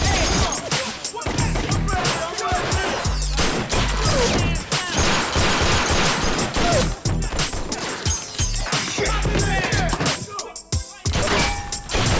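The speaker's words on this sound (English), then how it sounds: "Where that gunfire's coming from." Rapid bursts of gunfire crack and clatter continuously in a movie action fight scene, loud and dense, with sharp impacts layered throughout.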